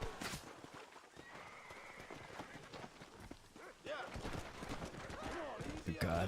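Hooves clop and a horse whinnies amid game sounds in the video game Red Dead Redemption, with a person talking over them.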